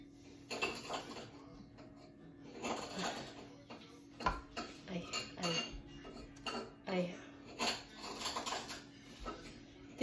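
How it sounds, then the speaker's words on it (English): A butter knife slices through a cup of butter in a home kitchen, with repeated light metallic clinks and scrapes against the dish in an irregular rhythm, close by. "I just use a butter knife, okay?"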